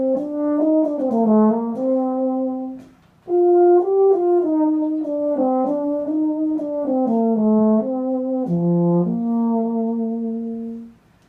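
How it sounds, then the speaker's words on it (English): A baritone horn plays a mellow, legato melodic line of sustained notes, loud and close, with one short pause partway through and no talking. "So the baritone sounds like this."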